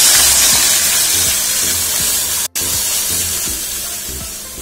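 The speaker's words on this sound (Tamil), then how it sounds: "பால் வந்து சேர்த்துக்கலாம்." Milk is poured into a hot pan of ghee with frying cashews, setting off a loud, steady sizzling hiss that runs throughout with one brief dropout in the middle.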